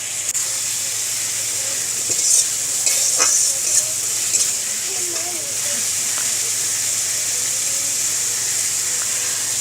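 Paneer masala spices sautéing in a pan with a little water added, a steady loud sizzle and hiss running throughout while the spoon stirs and scrapes now and then.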